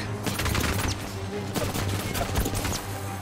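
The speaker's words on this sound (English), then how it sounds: "She's literally just shooting my purple shield." Rapid gunfire strikes a purple shield in the battle royale game Apex Legends: dense, continuous automatic shots rattle close and loud throughout, with faint sounds under the barrage.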